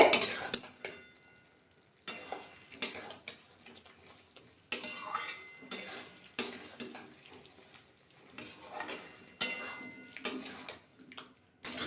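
Beans and fried eggplant stirred into a spice mix in a pan, intermittent scraping and clinking of a spoon against the pan with brief soft sizzling between strokes and quiet gaps.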